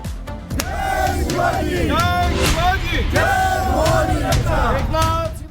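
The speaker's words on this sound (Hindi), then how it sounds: "ये नारेबाजी और जोश," A large crowd shouts slogans in unison, loud, rhythmic bellowed chants rising and falling together.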